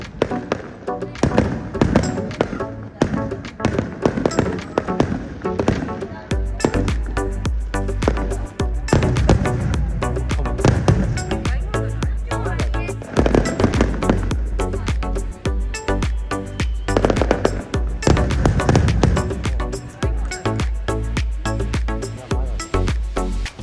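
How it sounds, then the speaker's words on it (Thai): A large annual fireworks show in Japan, with repeated booming bursts and crackling that go on without pause, loud and echoing, while a crowd murmurs throughout. "เราไปดูความสวยงามของการแสดงโชว์พลุกันยาวๆเลย"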